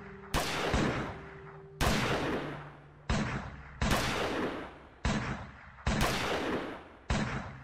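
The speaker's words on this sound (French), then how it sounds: "Il nous tire dessus à coups de fusil à pompe." Repeated shotgun blasts in a French zombie horror audio drama, about eight loud sharp reports in an uneven rhythm, each ringing out with a decaying tail, no voices over them.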